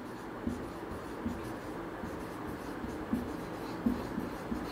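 Chalk or marker scratches across a board during a Class 9 maths lesson on real numbers, faint scraping strokes in short irregular bursts over quiet room tone.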